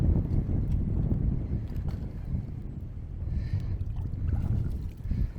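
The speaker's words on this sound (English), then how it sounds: "And the wind is honking." Strong wind gusting across open water on a bass fishing boat between tropical storms, a loud continuous low rumble of wind buffeting the microphone, with no talk.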